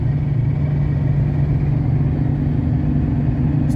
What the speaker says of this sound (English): Cruising at about 80 miles an hour.